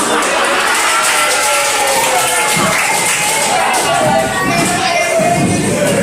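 Schoolchildren in a classroom clap their hands together, a dense and loud continuous patter of applause mixed with lively voices and chatter throughout.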